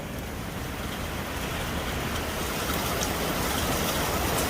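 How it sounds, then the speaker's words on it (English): Steady rain falls on a farm, a dense even hiss that holds at the same moderate level throughout with no voices over it. "Keep watching it rain."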